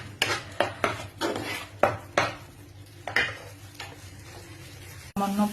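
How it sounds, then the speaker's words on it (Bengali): Spoon stirring turmeric and chilli powder into a paneer dish, with a series of sharp metallic clinks and scrapes against the pan over a faint background sizzle. "এবার এটাকে ভালো করে মিক্সড করে নেব।"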